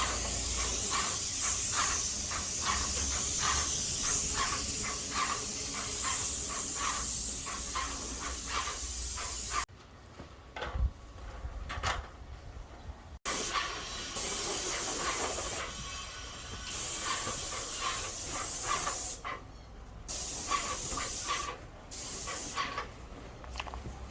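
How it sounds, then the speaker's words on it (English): An airless paint sprayer hisses loudly in long continuous passes while a worker sprays a house exterior during a full repaint, with short pauses between bursts. "we got one guy spraying"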